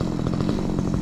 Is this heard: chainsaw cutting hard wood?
yes